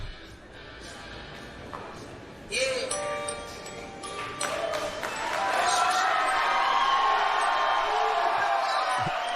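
A crowd at a CFFC cage fight erupting into cheers and whoops, rising from a murmur to a loud sustained roar, with an announcer talking over it.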